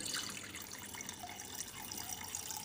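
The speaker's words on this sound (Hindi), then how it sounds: "बैठे हैं, पानी भरेंगे" Water runs from a tap into a container in a home in Karachi, a steady hissing splash with a faint trickling texture, heard close and fairly quiet, with no one speaking.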